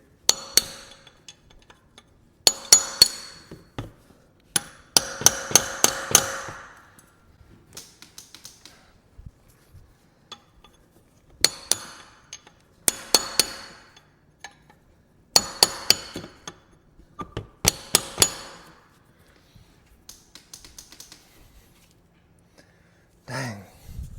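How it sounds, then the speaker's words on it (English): A stuck ATV starter is struck with a hand tool, producing repeated bursts of rapid, sharp metallic knocks and clinks separated by short pauses, fairly close and loud. "is to smack the starter"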